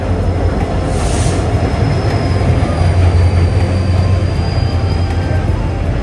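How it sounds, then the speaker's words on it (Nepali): A train at Tinsukia railway station, its wagons rumbling steadily and loudly with a continuous rail roar and a faint wheel squeal, heard alone throughout with no talk. "अहिले हामी तिनसुकियाको ट्रेन स्टेसनभित्र हामी चाहिँ इन भइसकेको छौँ"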